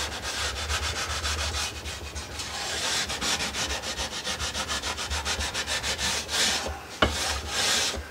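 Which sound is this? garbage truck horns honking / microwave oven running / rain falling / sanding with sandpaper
sanding with sandpaper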